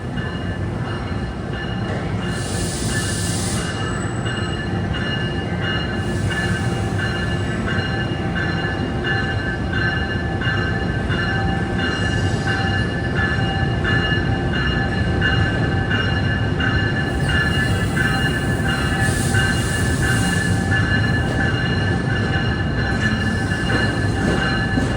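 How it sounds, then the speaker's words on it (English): A Trenton-bound commuter train pulls out of Penn Station New York with a steady, loud rolling rumble and a constant mechanical hum, broken by several high wheel squeals. No one speaks. "And we have a Trenton train pulling out of"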